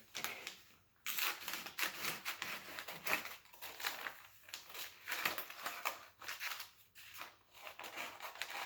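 Scissors cut through material while a craft Christmas gift is made, giving a busy run of close crunchy snips and crinkling rustles that rise and fall for several seconds, with no talking.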